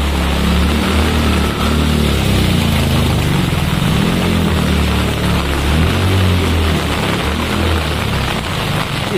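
Hero Splendor motorcycle engine running on a flooded street after heavy rain in Gurgaon, a steady loud engine drone with constant water and traffic noise.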